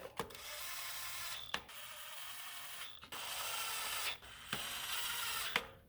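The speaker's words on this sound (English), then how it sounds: "drive home your 10 mils." A ratchet cranks in short bursts to tighten 10 mm bolts in the engine bay of a 2011 Toyota RAV4 during a spark plug job, making a close, steady raspy clicking broken by several brief pauses.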